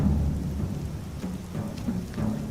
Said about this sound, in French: Il pleut, la terre est humide.